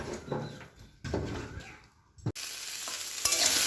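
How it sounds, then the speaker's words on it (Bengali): Potato and vegetable stems are stirred and sautéed in oil, with scraping strokes under a low sizzle. Partway through, a louder, brighter frying hiss swells and continues. "এই যে আলু ডাঁটাটা একটু সাঁতলে নিই তেলের মধ্যে"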